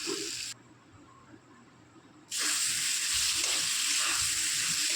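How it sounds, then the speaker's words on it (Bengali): Boiled potatoes with spices frying in a pan, a loud steady sizzle that stops briefly, then returns even stronger with scraping stirs; no talking. "আমি আগে আলুটা ভালো করে একটু কষিয়ে নেবো, যাতে মশলাগুলো এর মধ্যে লেগে যায় ভালো করে।"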